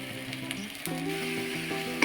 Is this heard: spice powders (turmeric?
yes